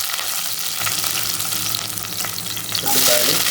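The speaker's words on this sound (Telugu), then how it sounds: "ఉల్లిపాయలు వేసేసి కొద్దిగా వేగేదాకా ఫ్రై చేసుకున్నాం" Green chilies and onions frying in hot oil for a masala chicken curry, a close, continuous loud sizzle that swells stronger near the end.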